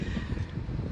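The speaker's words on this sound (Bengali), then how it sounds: "বাতাসটা দেখছেন বাইরে।" Afternoon wind blows outdoors at an open scenic spot, giving a steady low rumble as it buffets the microphone. No one speaks over it.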